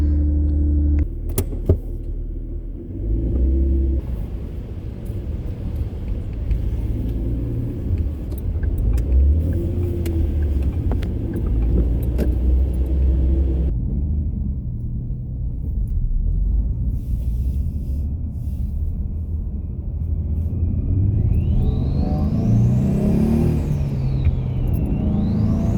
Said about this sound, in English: And now I'm gonna take it for a drive.